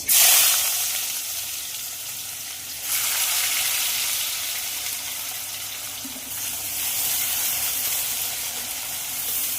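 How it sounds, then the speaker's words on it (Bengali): Onion and nigella seeds fry in the hot oil left from frying chitol fish, producing a loud, close, continuous sizzle that surges and eases in waves, with faint stirring beneath it. "পেঁয়াজটা একটু ভাজা ভাজা হোক"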